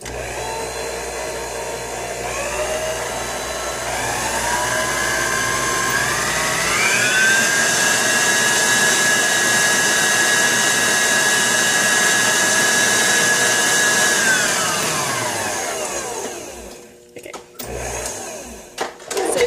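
An electric mixer whirs through cupcake batter in a home kitchen, a loud, steady motor whine that ramps up to a higher speed, holds for several seconds, then winds down and stops, followed by brief clatter.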